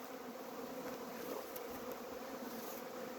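Steady, low buzzing of many honey bees droning continuously at moderate distance, with no voices.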